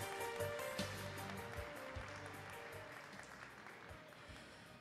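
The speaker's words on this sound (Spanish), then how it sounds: "Reiteramos el aplauso entonces para nuestros estudiantes" An audience applauds students at a school academic recognition ceremony. The clapping is soft and distant, a continuous crackle that slowly fades.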